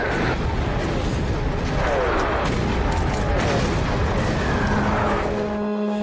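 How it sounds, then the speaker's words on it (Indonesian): Heavy artillery shelling in a war film set in North Africa during World War II makes dense, continuous rumbling booms and blasts. Whistling and mechanical sounds are woven through the loud mix. "posisi mereka ditembaki oleh artileri berat sekutu. Ledakan memborbardir mereka"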